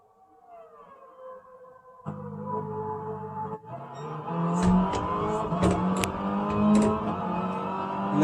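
A GR1-class race car in a video game lapping Monza: the engine note rises and shifts through revs as it accelerates, loud and continuous, with sharp high-pitched bursts layered on top.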